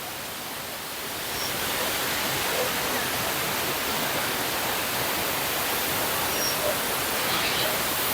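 Watu Ondo waterfall in Cangar, Batu, East Java roars in a constant broad rushing wash, close and loud, steady throughout with no voices.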